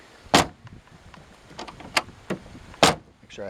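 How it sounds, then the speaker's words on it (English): A 2015 Shelby Cobra Factory 5 car door is opened and shut at a car show, giving several sharp latch clicks and thuds spread over a few seconds, close by, with faint background murmur. "Driver's side door opens and closes easily."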